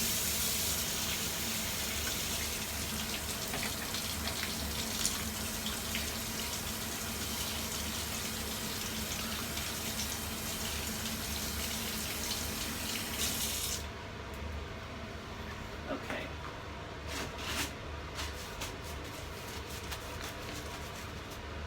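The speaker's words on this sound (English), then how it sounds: "Now I'm going to just rinse my hands off because I've got vestiges of this dark soy sauce on." Water runs steadily from a kitchen tap while hands are rinsed of dark soy sauce, a continuous close splashing stream that softens partway through as the flow changes.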